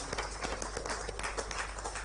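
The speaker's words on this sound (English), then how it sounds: "On applaudit encore l'honorable président." An audience at an official meeting applauds the president with dense, continuous clapping throughout.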